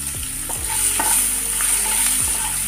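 Chopped onions fry in oil with cinnamon pieces, dried red chillies and bay leaf while a spoon scrapes the pan in regular strokes over a steady, close sizzle.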